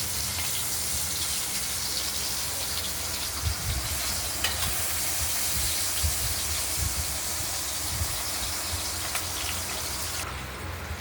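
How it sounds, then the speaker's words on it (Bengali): Potatoes fry in spice paste in a hot pan, giving a steady close sizzle and hiss with occasional soft stirring knocks, sustained throughout without talk. "মশলাটা ভাজা হয়ে গেছে, এবার আলু দিয়ে দিলাম। আলুগুলো ভাজা করে নিই, ভালো করে,"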